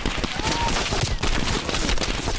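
Continuous gunfire in Call of Duty Black Ops Cold War, dense and steady throughout with rapid overlapping shots, moderately loud, with no clear talk over it.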